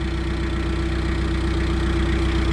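A narrowboat's diesel engine runs steadily at idle on a canal cruise near Claydon and Banbury, a continuous low chugging drone with a mid-pitched hum, close and unbroken throughout.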